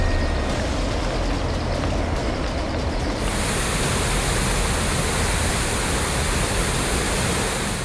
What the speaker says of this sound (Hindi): देहरादून में रिस्पाना नदी पूरे उफान पर बह रही है।